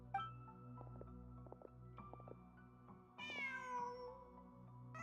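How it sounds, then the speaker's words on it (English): A cat meows in the video game Genshin Impact, two or three clear, close meows over a quiet ambient music bed, the last one drawn out and rising. "Just a cat."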